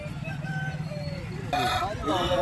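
At a rooster market, a rooster's crow rings out against a murmur of people and background noise, then more bird calls follow close by while someone talks.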